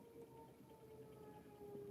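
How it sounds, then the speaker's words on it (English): Faint distant sirens wail at night, thin rising and falling tones drifting over a low background hum, with no voices over them. "Sirens."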